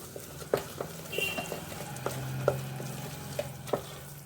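Carrot halva with a milk powder mix cooking in a pan, a soft steady sizzle with scattered scrapes and taps of a spoon stirring it, close and fairly quiet, no talking.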